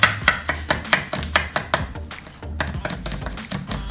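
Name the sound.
chopping ginger into small pieces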